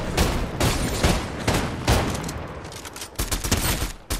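Rapid bursts of gunfire in a shooter video game crack out in dense clusters, loud and close, with no talking over them.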